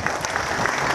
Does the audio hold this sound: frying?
no